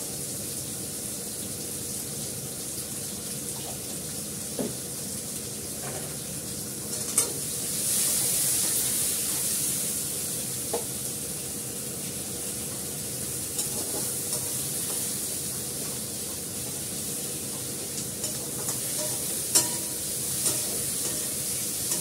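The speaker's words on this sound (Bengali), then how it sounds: "ভালো করে কষিয়ে নিই" Spiced food sizzles steadily in a pan for a long stretch, with occasional scrapes and clicks from a spoon stirring it. The frying noise stays close and even, with no talking.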